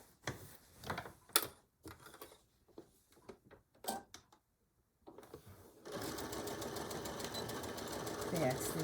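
Clicks and handling knocks come first, then a brief quiet, then a sewing machine back stitching a beach bag runs in a steady, close whir for the last few seconds, with some talk earlier.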